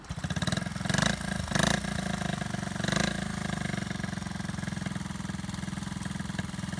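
A 1970 Honda Z50 mini bike's small single-cylinder engine cranks with a few bursts, then settles into a steady, rapid, close-up idle putter.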